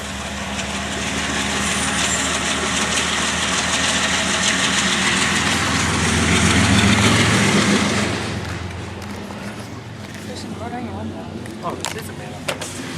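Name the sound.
BNSF train locomotive engine idling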